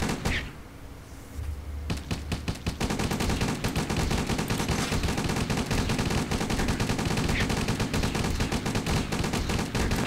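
Rapid gunfire in a tower defence video game, after a short quieter lead-in, dense automatic shots rattle loudly and continuously for around eight seconds.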